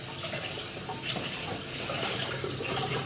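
A pot fills with running tap water until it overflows, giving a steady, fairly close gush and splash that keeps up without a break and with no talk over it.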